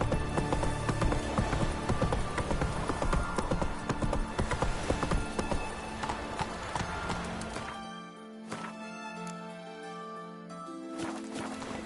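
Roach, Geralt's horse in The Witcher 3: Wild Hunt, gallops with rapid, rhythmic hoof clip-clops under game music, then the hoofbeats thin out and slow as the scene quiets.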